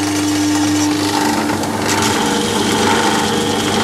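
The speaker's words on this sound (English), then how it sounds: "another method you can use is to start the lathe up" A metal lathe runs steadily, close and loud, with a constant motor hum and broadband mechanical whir and no talking.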